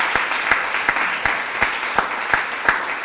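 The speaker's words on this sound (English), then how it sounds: "Maybe a round of applause again for all the presenters," A round of applause for presenters at the close of a meeting, with a dense even patter of clapping and a few louder individual claps standing out at regular intervals.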